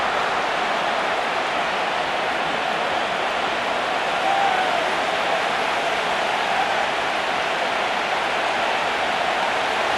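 A stadium crowd in Madden NFL 25 during a Miami Dolphins versus Buffalo Bills game roars in a steady, dense wash of noise with no breaks, like a constant distant hiss.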